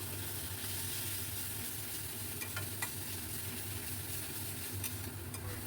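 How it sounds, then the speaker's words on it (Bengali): Kashmiri red chili powder and turmeric sautéing in a pan, a close continuous sizzle and hiss with faint scraping of stirring, steady and moderately quiet with no voices. "এবার খুব ভালো করে কষাতে থাকবো"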